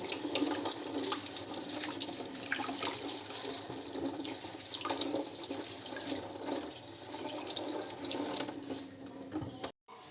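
Steady running tap water pouring into a sink as food is washed under it, a continuous close hiss and splash lasting throughout before cutting off abruptly at the end.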